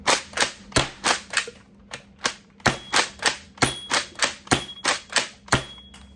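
Nerf Pro Torrent blaster firing darts fed from a Talon magazine. Rapid, loud, sharp snapping shots come in quick bursts with brief pauses between them, close to the listener, with no talking.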